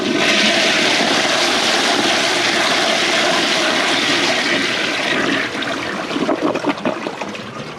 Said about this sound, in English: Let's see how powerful it flushes.